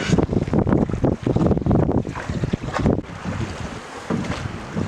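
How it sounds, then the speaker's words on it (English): Strong wind gusting on the Olympic Coast near the lower Bogachiel River, a loud, steady roar with buffeting microphone rumble that surges and eases over several seconds, with no talk. "Oh, here comes the wind."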